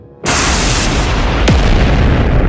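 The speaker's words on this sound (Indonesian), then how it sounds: "Suara ledakan udara menggelegar." Booming air explosion sound effect for a dragon-spear attack in a fantasy audio drama, a loud broadband rumble that bursts in suddenly and sustains with a sharp whooshing sweep partway through.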